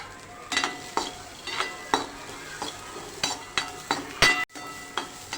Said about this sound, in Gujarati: તો હવે આપણા વટાણા પણ સતળાઈ ગયા છે